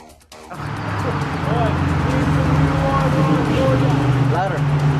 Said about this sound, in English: Of course the truck passes.